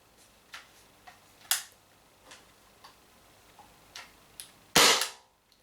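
An Umarex Impax P68 air pistol gives a series of light clicks and small snaps, then one louder sharp discharge that fades quickly, close by with no talk.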